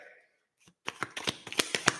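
A deck of tarot cards is shuffled close up, with a short soft rustle and then a quick run of crisp, rhythmic flicks and riffles at a fairly quiet level.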